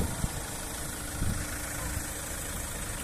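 A Chevrolet Captiva LT 2 litre diesel automatic idling in a clean engine bay, a steady low mechanical hum with faint rhythmic ticking, close and constant throughout.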